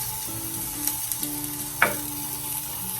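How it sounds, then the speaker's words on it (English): Onion frying in hot olive oil, a steady close sizzle with light crackles, a few soft stirring knocks and one sharper clink partway through, no voices. "We want the olive oil nice and hot. We're going to add our onion."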